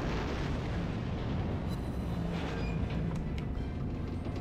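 Naval gunfire and shell impacts in World of Warships, a battle cruiser match, with a dense, rumbling roar of heavy booms and blasts that stays loud and continuous throughout.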